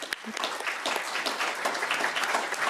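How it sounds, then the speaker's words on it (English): An audience claps steadily at a talk on preparing to lobby for peace, a dense, even patter of many hands lasting throughout at moderate level, with a brief voice near the start. "Let's give Ellen a little round of applause."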